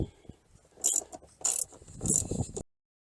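A ratchet on an extension turning a 10 mm seat bolt in a 2016-or-later Honda Pilot, a few short close bursts of metallic clicking and scraping, then silence, no talk.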